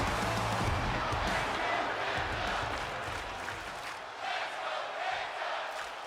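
A WWE 2K25 wrestling arena crowd roars and cheers in a continuous loud wash of noise, with a commentator talking over it throughout.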